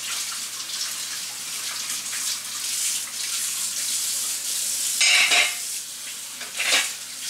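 Regular tap water runs into a kitchen sink in a steady, close rush, with a few louder splashes and clatters of dishes partway through and no talk.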